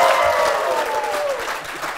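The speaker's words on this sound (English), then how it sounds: "Give them a round of applause." A studio audience on a local dating show applauds contestants, dense clapping that begins strong and gradually thins and fades, with no talk over it.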